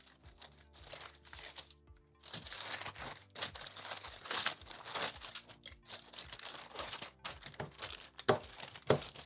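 Gift wrapping paper is rolled up by hand, giving close, irregular bursts of crisp crinkling and rustling with short pauses between them, fairly quiet.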